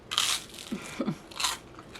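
Sourdough toast spread with vegan butter gets bitten and chewed up close, with sharp crisp crunches at the bite followed by softer, rhythmic chewing crackles.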